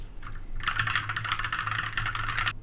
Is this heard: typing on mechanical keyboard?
yes